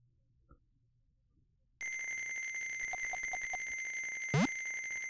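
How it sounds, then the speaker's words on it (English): An alarm clock rings in the video game Wario Land 2, starting abruptly after near-silence with a loud, steady electronic tone that holds to the end, joined briefly by a rising sweep sound. "Turn off the alarm clock."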